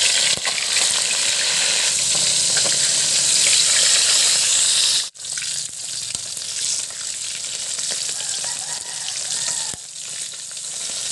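Fish frying in hot oil, with kamote (sweet potato) nearby, making a loud, steady crackling sizzle that cuts out briefly midway and then returns a little softer and more uneven, with no voices.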